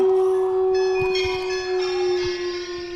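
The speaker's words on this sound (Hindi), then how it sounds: "ये कैसी घंटियाँ बज रही है?" Bells ring in the Granny horror video game, a sustained clear tone with overlapping chimes layering in, fairly loud and steady for a few seconds with no talk.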